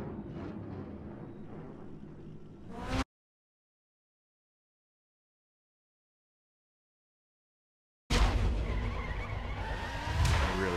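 Car skidding and missing a turn in The Crew racing game, loud engine and tire noise cutting out into several seconds of silence, then a harsh skid resuming loudly.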